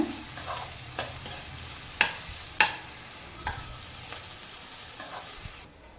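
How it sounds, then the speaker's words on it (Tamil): Finely chopped onions sauté in a pan for tomato rice, a gentle low sizzle under repeated sharp scrapes and taps of a spoon against the pan, fairly close and without talk. "வெங்காயம் வந்து நல்ல பொன்னிறமாக ஆக வரைக்கும் நல்லா வதக்கிக்கோங்க"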